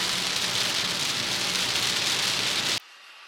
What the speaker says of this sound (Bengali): হ্যাঁ, বাট প্রচন্ড জোরে বৃষ্টি হচ্ছে এখানে